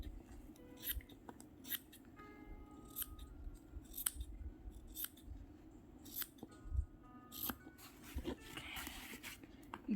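Crisp, close scissor snips cutting fabric repeat at an irregular pace over a low steady hum, with faint tones in the background and no talking.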